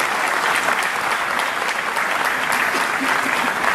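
Steady, dense audience applause fills the whole stretch at a cultural stage event, many hands clapping evenly at close range with a faint murmur of crowd underneath.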